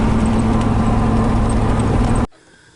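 A truck engine drones steadily at close range while driving, loud and continuous, then cuts off abruptly into near silence.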